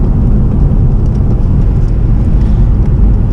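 Honda Civic Si, 7th generation EP3 with a light flywheel, engine note held steady and loud throughout, a continuous dense low drone from inside the car with no talk.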